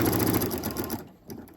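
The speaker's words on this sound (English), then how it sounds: "So approaching that corner, I'm going to sew until I get to a 1/4 inch away," A sewing machine stitches quilt binding toward a corner in a steady, close mechanical whir, then stops abruptly partway through, leaving faint clicks.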